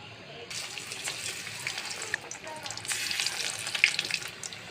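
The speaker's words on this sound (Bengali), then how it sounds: "এখন আমি তেলেতে ভাজবো" Eggplant slices dipped in gram flour batter sizzle and crackle in hot oil, a steady, fairly soft frying hiss with small pops, close up.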